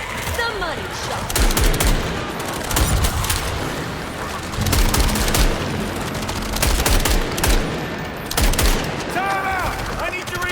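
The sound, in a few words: gunfire in video game John Carpenter's Toxic Commando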